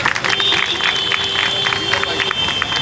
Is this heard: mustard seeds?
no